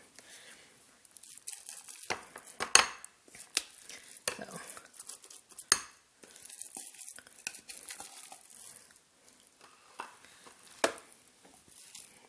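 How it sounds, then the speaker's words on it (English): Spices and herbs for Thai khao leng feun being stirred and mixed, with irregular scraping, clinking and crinkly rustles in uneven bursts, fairly close and moderately quiet. "All that spice and all the herbs, mixing it."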